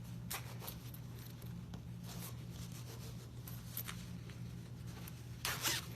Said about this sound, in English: So I'm going to reach through, open the zipper,